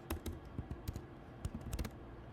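Computer keyboard typing, close and fairly quiet, with a run of uneven key taps and a few sharper strokes, no voices.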